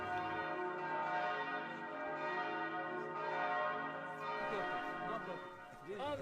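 Church bells of the Church of the Holy Sepulchre in Jerusalem ring continuously with rich overlapping tones, the pealing filling the space with no clear talk.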